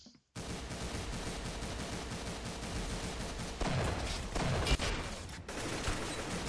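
Rapid bursts of gunfire from the Roblox game Arsenal, dense and continuous with machine-gun-like rattling and a few louder isolated shots, loud throughout with no talking.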